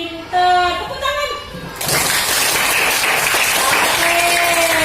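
Children applauding together in an Indonesian primary school classroom, a burst of loud hand clapping that starts abruptly and continues steadily, following a teacher's voice.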